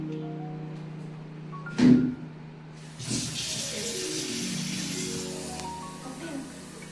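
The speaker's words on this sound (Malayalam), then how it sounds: "1 കപ്പ് വെള്ളം ഞാൻ ഇതിലേക്ക് ഒഴിക്കുന്നുണ്ട്." A cup of water is poured into a cooking pot of jackfruit puzhukku, giving a steady, moderately loud splashing rush that builds after a brief knock and continues to the end, with low tonal hum beneath.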